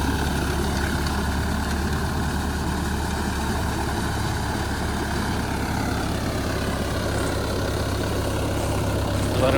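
Tractor engine labouring heavily while ploughing a flooded paddy field, a loud, continuous low diesel rumble with steady vibration and no pause throughout.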